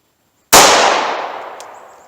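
A single sharp 9mm pistol shot of Speer Gold Dot ammunition from a short 3-inch barrel, loud and close after brief silence, with a quick decaying ring.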